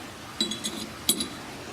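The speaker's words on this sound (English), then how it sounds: "Putting the gun back together, make sure you get that recoil spring lined up, put back in properly." Small metal parts of a Remington RM380 pistol clink together during reassembly, two short clusters of light taps close by in a quiet room.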